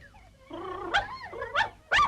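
A cartoon dog gives a whining, rising vocalization followed by two sharp, close barks, heard alone without talk.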